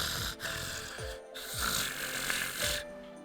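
A human voice imitates the super loud snoring of Joan Alter from Fate/Grand Order: a series of deep, rattling snores with short pauses between breaths, close and prominent.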